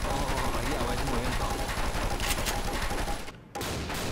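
Rapid automatic fire from an Uzi submachine gun in Left 4 Dead 2, a dense continuous burst lasting about three seconds before a brief cutoff, with game sounds continuing after.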